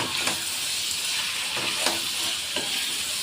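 Spices and chili powder sautéing in oil in a pan for a tilapia and pumpkin curry, a steady close sizzle with soft stirring scrapes at a few points, no talking.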